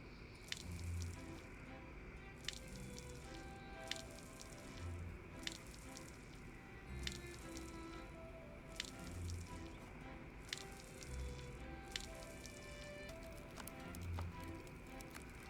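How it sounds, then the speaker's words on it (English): Plants are watered in the video game Mirthwood. Soft splashing drips and squishy plops repeat at a steady pace over a constant tonal game ambience, with faint clip-clop footfalls. "I decided to water our plants and check up on them"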